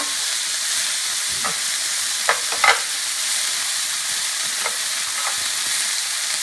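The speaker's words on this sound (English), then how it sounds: "I just want to stir fry this for a minute just on its own." Frozen green beans stir frying in olive oil, a steady loud sizzle of hot oil with a few brief scraping stirs of a utensil against the pan.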